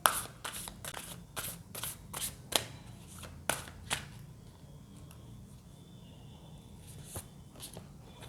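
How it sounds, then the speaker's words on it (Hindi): Tarot cards being shuffled by hand, a run of crisp riffling bursts in the first few seconds that thins into softer, sparser handling sounds over a low background hum, with no talking. "जब तक मैं कार्ड शफल कर रही हूँ"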